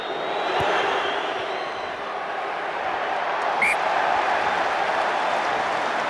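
A rugby stadium crowd at the 2008 Scotland v England Six Nations match jeers in windy, wet conditions. The sustained, distant wash of booing and crowd noise holds steady throughout.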